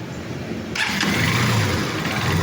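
A Suzuki TMX Supremo motorcycle engine runs close by, rising in loudness partway through into a harsh, rattly, knocking churn.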